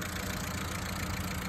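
A Daewoo Lanos car engine idling, a steady low running hum with faint rhythmic knocking, continuous and close.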